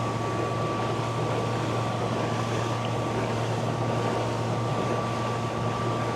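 An electric outboard boat motor, a Momentum M10 or ePropulsion Navy 6, runs at full throttle during a top speed test: a loud, constant whine with steady tonal hum and rushing water and wind noise, without talking.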